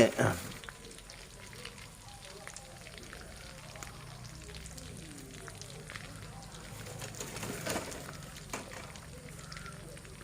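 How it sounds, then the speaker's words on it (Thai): Small fish (pla kheng) frying in oil: a faint, steady hiss and crackle runs throughout. A voice talks quietly underneath, and a sharp clatter comes at the start. "ทอดปลาเข็งน้อย"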